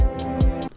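Two deep, booming kick drum hits in quick succession with a hi-hat ticking above, a short bouncy trap beat fragment.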